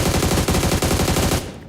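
Rapid automatic gunfire from the BGMI mobile battle royale game, a dense burst of evenly spaced shots rattling loudly for over a second before cutting off.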